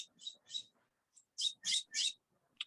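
Several birds chirp in short, bright bursts, a few brief calls followed by a louder cluster of tweets near the end, heard alone with no talk over them.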